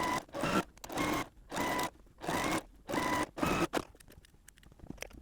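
A sewing machine chain-pieces quilt squares in pairs, whirring in six short, loud bursts with brief pauses between, then a few faint handling clicks.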